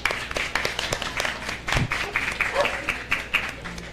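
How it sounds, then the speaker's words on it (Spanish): A small audience at a talk on shark science breaks into scattered applause, with uneven clapping that rises and falls over a few seconds while voices murmur underneath. "Un aplauso para Daniel."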